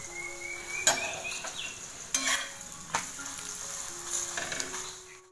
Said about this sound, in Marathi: असे खरपूर चांगले असे भाजून घ्यायचे.